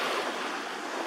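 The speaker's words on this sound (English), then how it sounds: "We paused to watch the waves and look at the long pier extending out into the water." Sea waves wash on the shore at Penarth near a long pier, a soft continuous surf rush heard at a moderate distance with light wind.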